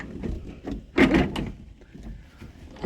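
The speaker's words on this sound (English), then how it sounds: "Let's open this door." A heavy balcony door in a Royal Caribbean Harmony of the Seas cruise ship cabin being opened, a nearby clunk and scraping rumble of the latch and frame, with a brief louder burst in the middle.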